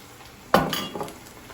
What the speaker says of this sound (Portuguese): está começando a fritar